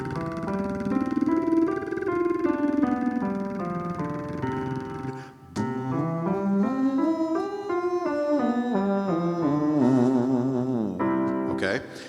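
A singer runs vocal warm-up scales, first a lip trill and then a buzzy blowfish trumpet sound, gliding smoothly up and down in pitch, loud and close, in two sustained phrases.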